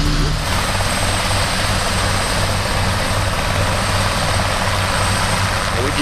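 A helicopter at an ultralight gathering, its rotor and engine a steady, loud, close drone that holds unbroken throughout, with no talk over it.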